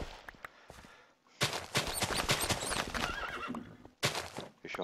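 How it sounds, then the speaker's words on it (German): A horse whinnies loudly in Minecraft Tekkit Lite, with hoof clip-clops and short clicks around it, close and clear, the neigh trailing off and then a sharp burst returning near the end. "Ich höre ein Pferd."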